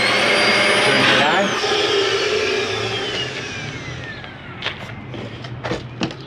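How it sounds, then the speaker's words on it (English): An RV central vacuum system runs with a loud, steady whining roar whose pitch slowly falls as it winds down. Near the end someone speaks briefly over it and a few clicks and knocks are heard. "Your vacuum system. Just simply hook a vacuum up there."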